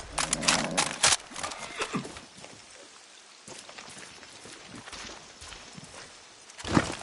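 Horse sounds from the video game Far Cry 6: a snort or whinny, then hooves and movement, with a sharp burst at the end. Sounds are moderately close over quiet game ambience, and nobody speaks.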